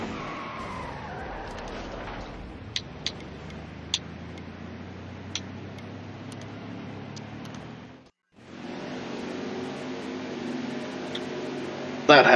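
Truck series racing game with a car wreck, engines droning and tires skidding under a steady roar, a few sharp ticks, a brief dropout near the end and voices talking.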